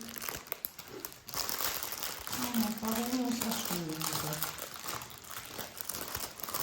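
Close, steady crinkling of plastic packaging during the unboxing of an embroidery order, with a voice briefly heard in the middle of the rustling.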